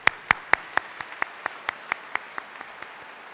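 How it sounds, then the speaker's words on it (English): A single pair of hands clapping about a dozen sharp, evenly spaced claps at a graduation ceremony for adult high school and GED students, close and distinct, slowing and softening slightly toward the end. "Let's give her another round of applause."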